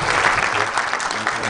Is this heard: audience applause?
yes